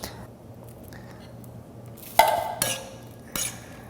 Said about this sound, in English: So we'll drain the butter bean and add that to the bowl